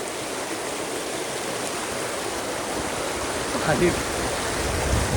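Water rushing over a waterfall in heavy monsoon rain, a loud continuous roar close by that swells slightly toward the end, with faint voices mixed in.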